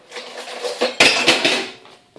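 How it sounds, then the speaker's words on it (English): Egg whites being mixed in a bowl for pancakes: a utensil knocks and scrapes against the bowl in several quick clattering strokes, close and fairly loud, with no voices. "we just mix this in. We mix, we mix, we mix."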